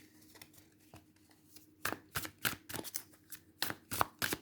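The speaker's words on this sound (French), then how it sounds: "je vais vous tirer une carte du Dixit" Dixit cards being shuffled and drawn by hand for a card reading, with sharp papery flicks and riffles that start sparse and quiet and then come in a denser, louder cluster, close and without talk.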